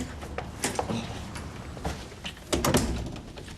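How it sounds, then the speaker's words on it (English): Several dull thuds and knocks from a house door sound close by, a sharper cluster near the end, with quiet room tone between them. "That's the door."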